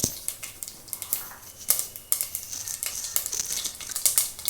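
Mustard seeds popping in hot oil in a pan, a quiet scatter of sharp irregular crackles and spits over a faint sizzle.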